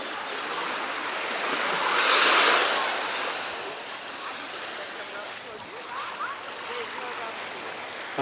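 Indian Ocean waves wash onto a beach in Mauritius, a steady broad hiss of surf that swells into a louder rushing break near the middle, then settles back to a continuous wash with no talk.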